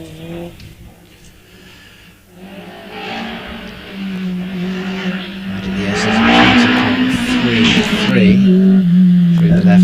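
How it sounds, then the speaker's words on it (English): A Van Diemen RF02 FX 2-litre racing car climbs a hillclimb course at Wiscombe Park, its engine revving hard and rising in pitch through gear changes and growing louder, while a commentator talks over it. "Now striding out across the parkland is Aaron Colburn with the Van Diemen RFO2 FX 2-litre machine."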